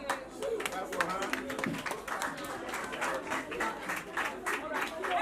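An audience claps for Blessing at a CPR and choking first aid awareness session, a steady patter of many hands running continuously throughout, with a voice speaking over the applause.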